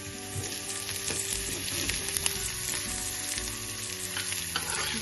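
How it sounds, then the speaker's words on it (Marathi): Turmeric and red chilli tempering sizzles in hot oil for spinach dal, a steady close crackle and hiss with faint stirring scrapes and no voices. "फोडणी इथे तयार करून घ्यायची"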